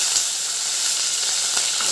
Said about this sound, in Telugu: దొండకాయ ముక్కలు అన్నీ వేసి మంచిగా ఫ్రై చేసుకోవాలి